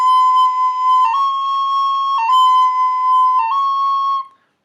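A recorder plays a sustained B moving to C, with a brief unwanted A sounding between the two notes, the change repeated three times in clear, steady tones before it stops.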